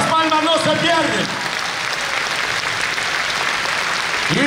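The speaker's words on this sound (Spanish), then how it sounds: "El aplauso para el Rey de Reyes es con toda el alma" Applause from a church congregation during a Catholic priest's sermon on family, a broad steady wash of clapping filling the whole stretch, with a preacher's voice heard briefly at the start and again at the end.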